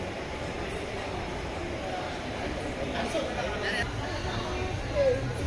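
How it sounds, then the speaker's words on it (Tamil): Passenger locomotive-hauled express train departing Mannargudi station, heard from inside a coach as a steady low rumble of wheels on track with faint squeals, while people talk nearby. "பத்து 35 மன்னார்குடி ஸ்டேஷன்ல இருந்து ட்ரெயின் எடுத்துட்டாங்க."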